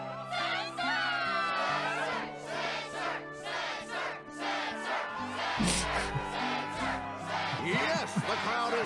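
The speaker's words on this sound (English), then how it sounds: "Yes, the crowd is fired up" Crowd cheering and shouting in Kingdom Hearts II before a Struggle match, a loud sustained roar of many voices with whoops, mixed with game music and in-game voices throughout.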